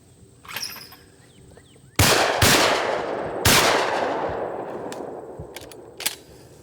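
Two loud, close shotgun blasts at clay targets on a shooting range, about one and a half seconds apart, each followed by a long echoing decay, with a faint thrower clack and quiet outdoor background before them.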